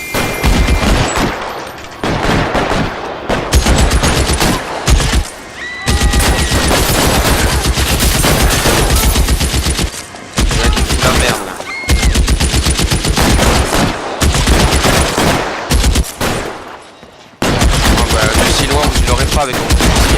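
Gunfire in the video game L.A. Noire, with loud, close bursts of rapid shots and machine-gun fire that repeat almost without a break, separated by a few brief pauses.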